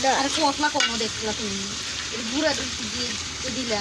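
Food fries on a clay stove at an outdoor picnic, giving a steady, close sizzle and stirring that runs continuously beneath a person talking.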